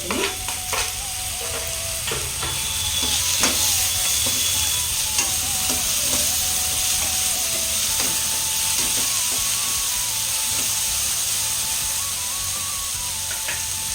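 Tomatoes and coriander leaves stir-frying in hot oil for a vegetable sagu, a steady sizzle with repeated scraping and clinking of a spoon against the pan throughout, close and alone.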